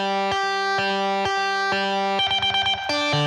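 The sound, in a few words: distortion amps with reverb and delay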